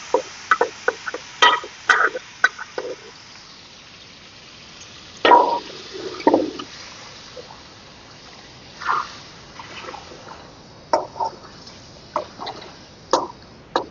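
Cooked rice and dal being poured into a pot for dal khichdi. There are scattered soft wet plops and sloshes in irregular bursts, with quiet gaps between them.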